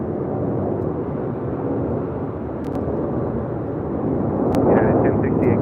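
Airliner at LAX airport, heard as a steady, broad engine roar that swells slightly toward the end, with brief clicks of radio or tower chatter over it.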